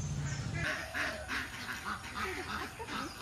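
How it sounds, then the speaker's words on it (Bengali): Lesser whistling ducks call at a pond in a series of short, repeated quacking notes. They are fairly close and sound over a steady background hiss. "হাঁস পাখি আছে সরালি এটাকে সরালি বলে"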